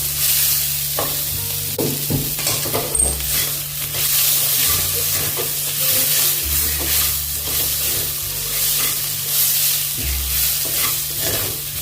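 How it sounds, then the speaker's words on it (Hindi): Coarsely pounded ginger-garlic paste and roasted fenugreek are stirred in a pan, giving a steady close sizzle with repeated scraping strokes of the spoon, alone, over a constant low hum. "मेथी भी डाल देंगे भुनी हुई। अच्छे से मिक्स कर लेंगे।"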